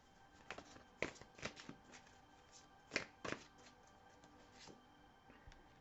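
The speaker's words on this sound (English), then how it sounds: "So let's pull some more cards here." Tarot cards being shuffled and handled, faint papery slaps and riffles in irregular clusters with a few sharper snaps, close but soft against a quiet room.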